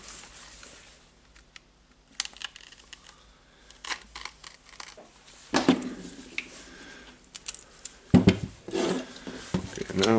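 Duct tape is peeled off a Makita drill housing in short rips and crackles, with scattered small clicks and handling sounds, growing louder toward the end.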